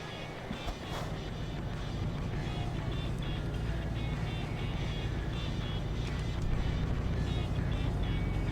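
Heavy truck engine rumbling in American Truck Simulator as the driver drops a couple of gears, a dense, continuous low drone that swells slightly toward the end, with no talking.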